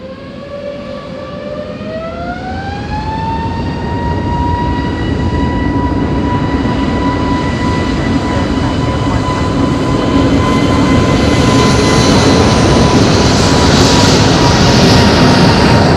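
An aircraft spools up for takeoff from runway 05 at Madeira Airport on a very windy day, its loud engine whine rising in pitch and then holding steady as a continuous roar with heavy broadband rumble.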